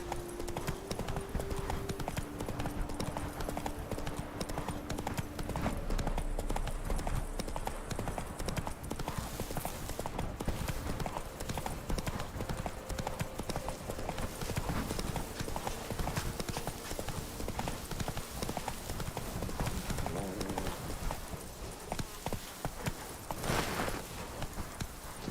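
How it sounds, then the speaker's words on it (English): A horse's hooves clip-clop steadily through a game scene in The Witcher 3, a continuous rhythmic trot over ambient background sound, heard close. "Come on, Roach"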